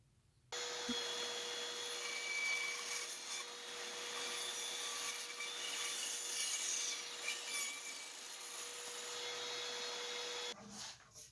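A saw rasps back and forth through a tapered wooden cabinet leg, producing a steady, close scraping that starts abruptly, runs for about ten seconds and then stops.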